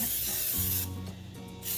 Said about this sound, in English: And we're going to spray the bottom of the pan.